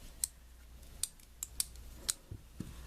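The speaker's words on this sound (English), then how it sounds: "So, cut our thread there." Scissors snipping tatting thread, a handful of crisp, close clicks spaced about half a second apart, quiet and alone.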